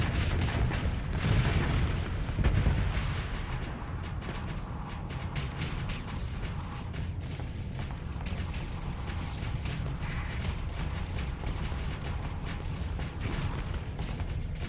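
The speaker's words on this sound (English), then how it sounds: "I did that so that my auto weapon fire would focus on this ship." Automatic weapon fire from spaceships in StarSector, a steady stream of rapid shots and dull booms that holds at an even, loud level across the whole stretch.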